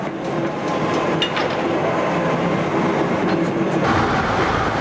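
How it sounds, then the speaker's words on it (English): Sectioned Ellerman Lines steam locomotive with its motion turned by an electric motor, giving a steady, continuous mechanical rumble and whir with a faint rhythmic clatter, loud and unbroken with no talk. "An electric motor provides the power for a motion demonstration."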